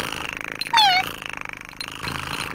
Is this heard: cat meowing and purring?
yes